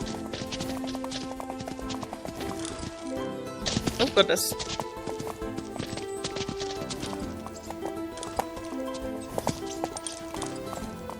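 Horse hooves gallop steadily through a horse race in a video game, a continuous clip-clop rhythm running under game music and a voice speaking briefly.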